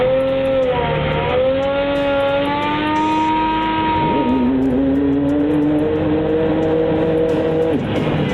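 A heavy truck engine revs hard and steadily as its tires spin without traction, the pitch rising, dipping and climbing again in a loud, continuous strain with no voices.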